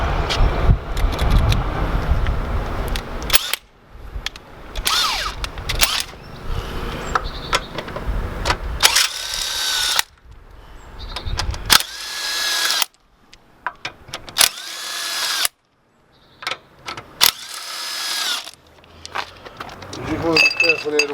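Short bursts of a power tool whir on and off while a wheel comes off a Mk3 Audi TTS in a garage, interspersed with clanks of metal parts and someone talking between the bursts.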